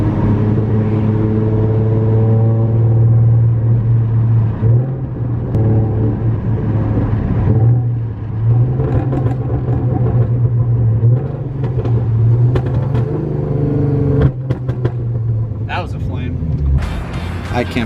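Ford Mustang 3.7 V6 engine under load, a loud steady rumbling drone that rises and roughens in spots as it breaks up, heard from inside the car with a voice talking over it.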